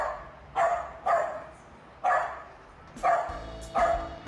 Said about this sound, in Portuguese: E aí o cão reage ao Scar latindo.